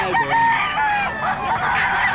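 A rooster crows loudly up close at a chicken market, its call rising and breaking, with other fowl clucking and honking around it.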